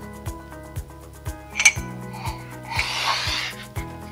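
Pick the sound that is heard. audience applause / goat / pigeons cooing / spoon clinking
spoon clinking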